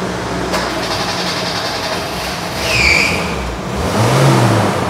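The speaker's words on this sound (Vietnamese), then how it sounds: "Cục máy khá là êm." The engine of a Joly 8-seater van idling smoothly, a steady close hum that swells slightly twice, with a brief higher squeal and a low thump near the end.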